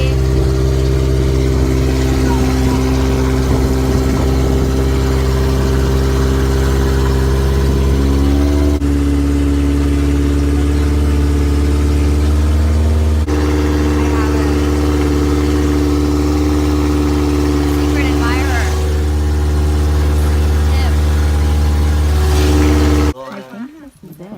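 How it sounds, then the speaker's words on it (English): A boat engine drones steadily during a river trip in northern Laos, a loud continuous mid-pitched hum that shifts slightly in tone a few times before cutting off abruptly at the end. "Now we're on the boat."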